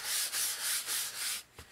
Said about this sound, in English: rub off some of the excess.